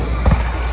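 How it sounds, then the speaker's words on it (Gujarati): Wedding fireworks display, a single dull bang bursting out of steady outdoor crowd noise. "અને પાછળ જાઓ ફટાકડાનો શો."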